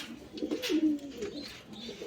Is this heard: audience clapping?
no